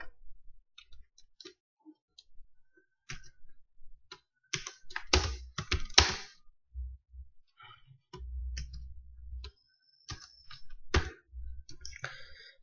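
Computer keyboard typing comes in scattered bursts of clicks and taps, close and fairly quiet, with pauses between short runs of keystrokes.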